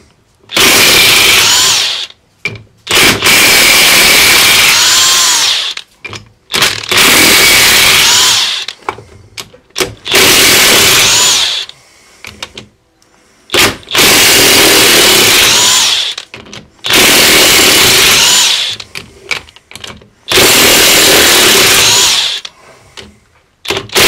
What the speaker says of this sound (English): with all the bolts removed from the ring gear